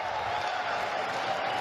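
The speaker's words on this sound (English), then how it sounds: "That crowd's going ape." A large audience at Sony's 2015 E3 press conference roars and cheers in a loud, sustained wash of noise that fills the whole moment.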